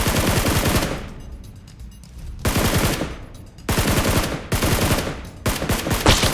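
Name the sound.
gunfire in the video game PUBG Mobile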